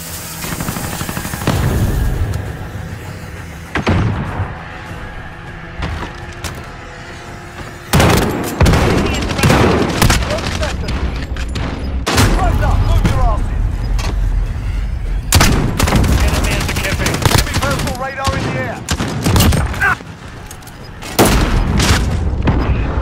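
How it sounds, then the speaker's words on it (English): Loud, dense gunfire in Call of Duty: Modern Warfare: rapid automatic bursts mixed with heavy booms and explosions, fired by an enemy sentry gun among other weapons, continuing almost without a break. "Enemy sentry gun active."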